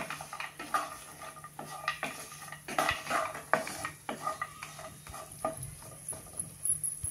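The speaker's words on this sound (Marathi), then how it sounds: "हे काजू बदाम परतून घेऊया आणि नंतर उरलेले ड्रायफ्रुट्स घालूया।" Cashews and almonds roasting in a pan, stirred with a utensil: repeated scraping clinks of metal against the pan with faint sizzling, close and steady, no talking.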